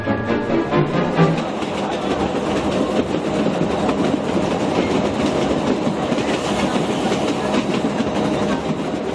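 A narrow-gauge train on the Corsican railway between Calvi and Ajaccio rumbles steadily for about nine seconds, with dense wheel clatter and rail noise heard from close by, loud and continuous with no talk.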